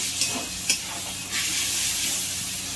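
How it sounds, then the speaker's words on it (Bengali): Steady hiss and sizzle of ginger garlic paste frying in a pan, with a couple of brief scraping taps from a utensil stirring the mixture. "আদা রসুন দিয়ে নেড়ে নিচ্ছি কিছুক্ষণ।"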